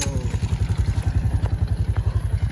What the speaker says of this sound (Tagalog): So magsakay ako ng motor.